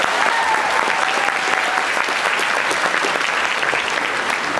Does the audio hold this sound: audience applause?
yes